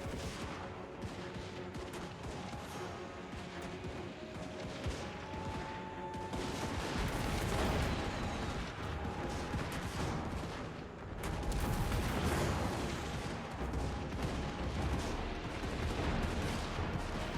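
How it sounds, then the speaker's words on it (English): Crane gunners firing in Total War Warhammer 3: a dense, continuous roar of massed gunfire and battle noise that grows louder partway through, with crackling volleys layered over a constant din. "Crane gunners are starting to open up."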